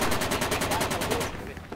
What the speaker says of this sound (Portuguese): Alguém atirou em mim